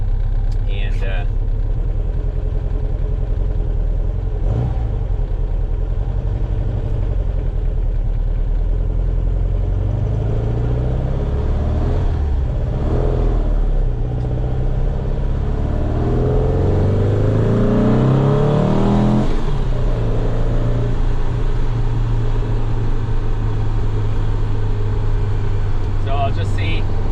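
A 1961 VW Beetle fitted with a VW bus engine idles steadily and gets a few gentle revs that rise and fall, the engine drone running throughout under occasional talk.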